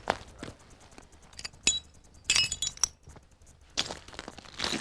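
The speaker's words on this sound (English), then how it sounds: "I'm just looking for some bits of glass that I might be able to use as a lens" Bits of glass clink and rattle in short bursts as someone rummages through them, several sharp tinkling clusters separated by quieter pauses.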